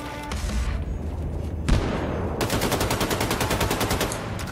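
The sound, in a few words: grenade explosion and gunfire in video game Wolfenstein II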